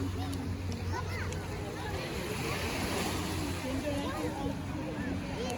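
Ocean surf rolls steadily onto a Penang beach ringed by hills, a continuous broad wash of waves mixed with wind buffeting the microphone and a faint low hum, with no clear pause throughout.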